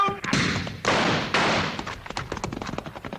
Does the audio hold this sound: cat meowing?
no